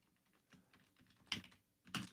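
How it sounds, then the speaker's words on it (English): Quiet typing on a computer keyboard: a few soft, scattered keystrokes followed by two louder bursts of clustered key presses, heard close and alone with no voices. "do you know the pressure of typing in front of people?"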